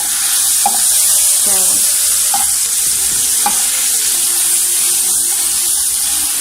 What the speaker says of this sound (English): I have put in all the fishes in the mustard oil, which is fiercely hot